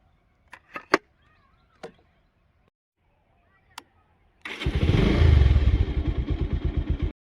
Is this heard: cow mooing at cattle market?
no